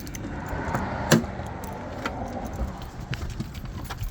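Keys jangle and clink intermittently near an EF Civic sedan during a timing belt repair, light metallic taps scattered over a steady low background rumble.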